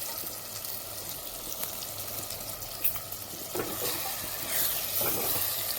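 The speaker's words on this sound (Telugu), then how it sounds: "ఇప్పుడు ఇలా చక్కగా కలియదిప్పుదాము" Potatoes and fenugreek leaves in hot oil for aloo methi curry, stirred in a pot: a steady soft sizzle with occasional scraping and clinks of the spoon, no talking.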